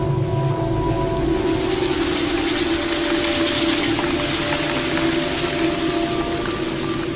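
A heavy wet-season downpour in tropical iguana habitat, a dense, steady hiss of rain pouring down loud and unbroken throughout, with no voices.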